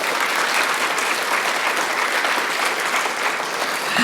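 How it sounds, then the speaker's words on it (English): Dense, sustained applause from an audience at a heritage film screening, loud and even across the whole stretch with no talk over it. "I'll just mention their names one more time for a big round of applause at the end, please"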